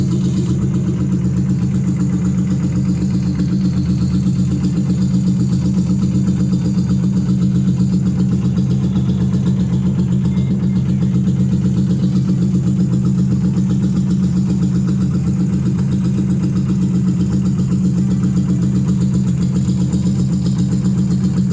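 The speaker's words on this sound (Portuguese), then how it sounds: "para vocês ouvirem o som do motor dessa moto carburada" A carbureted Yamaha Virago 250 motorcycle engine idles steadily up close, a low, even rumbling throb with no change in pace for the whole stretch.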